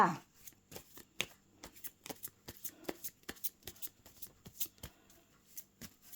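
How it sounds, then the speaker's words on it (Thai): Tarot cards are shuffled and cut by hand in a quiet room, a rapid series of crisp riffling flutters and sharp card slaps, close and fairly soft. "ขอเป็นตัวแทนสับไพ่ตัดไพ่คนเกิดวันพฤหัสค่ะ"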